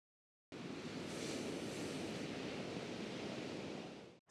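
Pacific Ocean surf at Crissy Field, a steady broadband wash of waves and wind that starts abruptly and holds at an even level for several seconds before cutting off.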